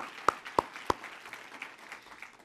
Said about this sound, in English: Round of applause for Nely.